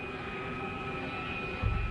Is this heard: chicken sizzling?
no